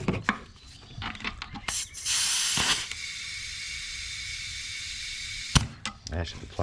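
Air hisses into a Heybike e-bike tire in a loud, steady burst lasting a few seconds before cutting off sharply, with clattering handling noises before and after.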